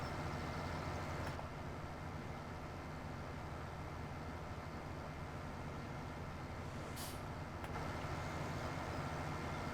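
A JCB vehicle engine rumbles in Farming Simulator 17 on a long haul up a road, giving a steady low drone throughout with a couple of faint clicks, alone and moderately quiet.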